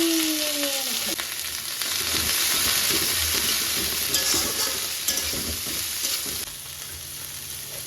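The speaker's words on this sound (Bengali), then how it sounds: "এবার এর মধ্যে আমি ভেজিটেবলগুলো অ্যাড করে দেবো একটু" Vegetables hit hot oil already seasoned with bay leaf, cumin and dried red chili: a loud, steady close sizzle with scraping and stirring through it, a brief higher tone at the start, and no talk.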